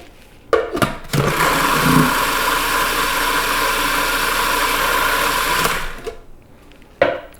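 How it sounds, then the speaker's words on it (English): A blender purees lentil hummus with hot pepper flakes, running as one steady, loud motor whir for about five seconds, with abrupt start and stop and brief clatter before and after. "And then we'll blend that in."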